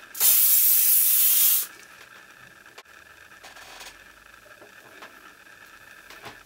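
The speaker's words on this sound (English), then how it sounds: "And I'm going to spray my hands." Hairspray from an aerosol can blasts onto hands in one loud, steady hiss of about a second and a half, followed by quiet rustling and faint handling sounds.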